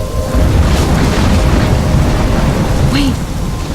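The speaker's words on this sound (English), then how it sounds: "I'm trapped in a storm?" Heavy thunderstorm in the video game Life Is Strange, with loud continuous rain and deep rumbling thunder filling the whole stretch, plus a brief whooshing gust near the end.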